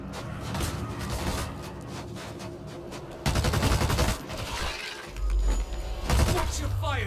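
Gunfire from a World War Z zombie shooter level in Moscow, with dense, rapid bursts of automatic fire, heavy booming blasts and crashing impacts in steady close volleys.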